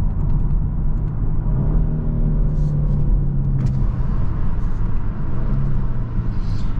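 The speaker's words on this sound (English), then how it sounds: "this is actually real noises from the engine and the exhaust" A 2022 Genesis G70 RWD in sport mode gives a steady, loud engine and exhaust rumble heard from inside the cabin while driving, with mild rises in revs and no talking.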